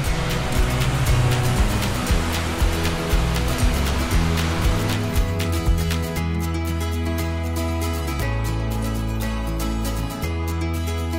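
A powerful waterfall at Deer Creek in the Grand Canyon roars in a steady, dense rush of water, close and loud and continuous throughout.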